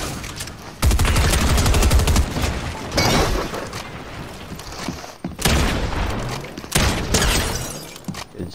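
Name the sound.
gunshots in the video game Fortnite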